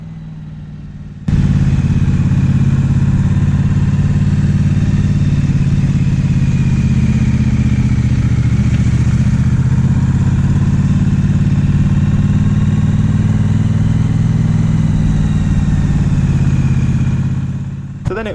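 Triumph Street Twin motorcycle running on a Lake District road near Hardknott Pass, its engine a loud, close, steady throbbing drone that starts abruptly and holds for the whole stretch before easing off at the end.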